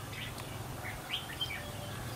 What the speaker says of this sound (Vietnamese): Cái con ở lồng của chú, con của chú là chim già hay chim non chú?